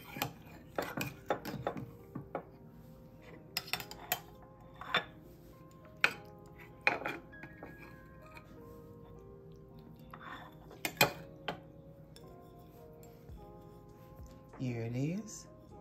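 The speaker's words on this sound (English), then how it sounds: "Let's cut a slice and see how it looks." A knife and server cut and lift a slice of warm coconut impossible pie on a plate, giving scattered clinks and scrapes of metal on crockery, with a brief ringing squeal near the end and no speech.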